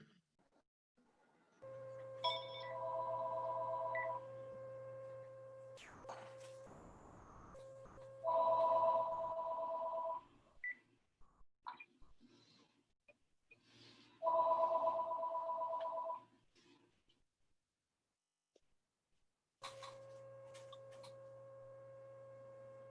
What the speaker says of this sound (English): I heard a phone ringing in the background.